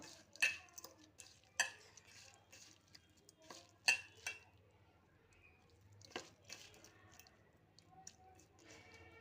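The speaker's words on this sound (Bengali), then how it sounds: "তো এখানে দিয়ে দেবো আমি তেল আমি এটা একটু মেখে নেব" Winter vegetables and olives mixed with oil by hand in a bowl: soft wet squishing and rubbing with a few sharper taps against the dish, close and quiet.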